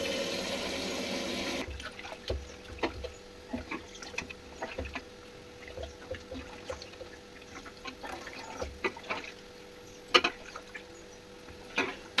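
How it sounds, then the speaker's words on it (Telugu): Vegetables or meat for a biryani and chicken curry being rinsed twice in water, with faint splashing and a string of short sloshing bursts, close by and fairly quiet, after an opening rush of running tap water. "ఒక 2 టైమ్స్ శుభ్రంగా నీట్గా కడిగేసుకుంటే"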